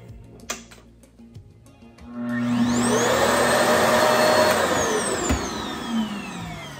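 A Revair hair dryer set to 6 starts with a rising whine and then runs as a loud, steady roar with a high-pitched tone, heard up close after a few faint clicks.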